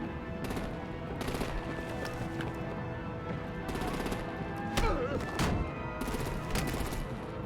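Sustained machine-gun bursts and heavy gunfire rattle loudly through a Batman video game battle scene in repeated volleys, with an occasional voice over the din.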